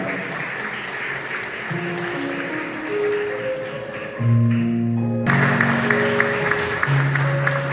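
Guests at a Korean wedding ceremony clap steadily through a hall, the applause continuous and fairly close, with sustained tonal music or sound system notes running underneath.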